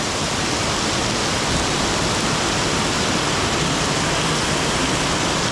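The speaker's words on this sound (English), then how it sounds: "It's raining so hard." A dense, unbroken wash of heavy rain hisses loudly and evenly throughout on a street in Macau, like a downpour drumming close by.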